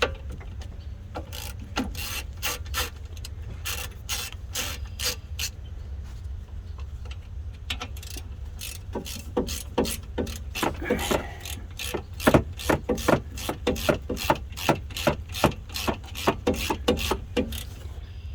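Ratcheting clicks from a wrench cracking loose the 14 mm brake caliper bolts on a 2012 Subaru Legacy, rapid close bursts of sharp ticks that grow denser and louder toward the end over a low steady hum.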